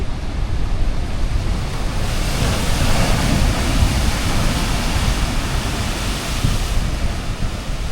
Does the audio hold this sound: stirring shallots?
no